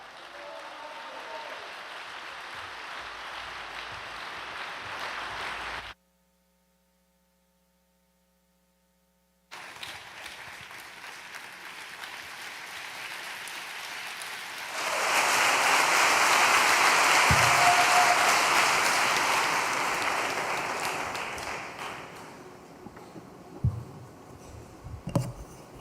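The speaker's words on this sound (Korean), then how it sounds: "큰 박수로 모시겠습니다" Audience applause welcoming a guest speaker at an overnight devotional gathering, a steady broad wash of clapping that stops for a few seconds of silence, then swells louder and fades into scattered claps.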